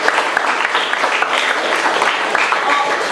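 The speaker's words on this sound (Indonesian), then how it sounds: "Tepuk tangan untuk kita semua." A crowd applauds at an Indonesian book discussion event after a stand-up comedy set, a dense, steady clapping that fills the short clip at close range.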